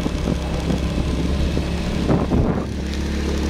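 Motorbike engine droning steadily while it climbs a narrow, steep, rocky road above a ravine, a loud continuous hum with wind rush and a brief swell of strain midway.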